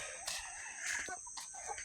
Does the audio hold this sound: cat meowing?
no